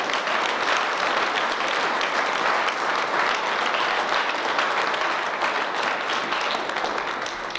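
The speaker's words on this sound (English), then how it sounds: "I need a big clap for that one. I need a big clap." A crowd at a young men's leadership conference gives loud, dense, sustained applause that stays even from start to finish.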